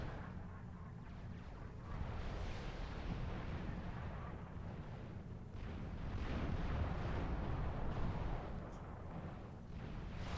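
Cybran artillery shells pounding in a Supreme Commander 2 3v3 match on Van Horne Core, a dense, continuous rumble of low booms and blasts that swells midway and holds steady throughout.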